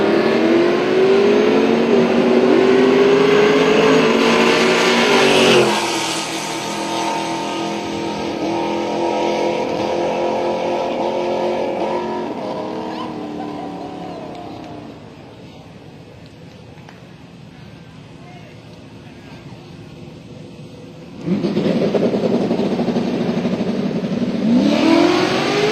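A Corvette and a GTO drag racing at Atlanta Dragway in an NMCA LSX event: loud engines rev and accelerate hard up close, fade into a quieter stretch, then another burst of revving.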